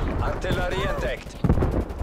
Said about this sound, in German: Artilleriebeschuss.